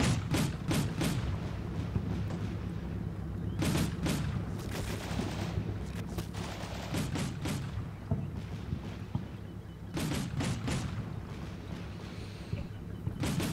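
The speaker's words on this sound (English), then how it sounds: "That's a machine gun." Bursts of machine gun fire in a military video game rattle out in several separated volleys, sharp rapid cracks over a low rumbling background, moderately distant and without voices.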